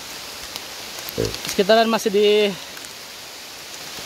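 Steady rain from a thunderstorm hisses over a rural mountain route between Sobang and Citorek, an even wash of noise throughout. Someone speaks briefly in the middle over the downpour.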